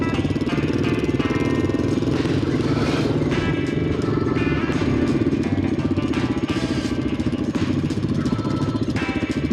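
A Honda XR600R dual-sport motorcycle idles roughly on choke, a loud, close, steady thumping single-cylinder rumble with some clatter, heard alone.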